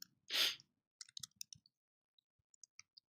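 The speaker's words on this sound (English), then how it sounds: "So if I just want this label, I just hold Command and then click." Computer mouse clicks made while holding the Command key: one louder click, then a scatter of small, crisp clicks and taps, close and quiet with nothing else heard.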